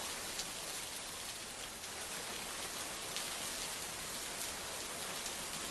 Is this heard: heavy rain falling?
yes